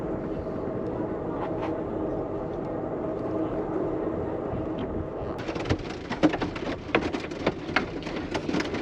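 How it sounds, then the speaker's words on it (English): Hail rattles against a moving Amtrak train over a steady low rumble of the train in motion, beginning midway as a dense, sharp patter of close impacts that continues to the end. "you can probably hear the hail now hitting."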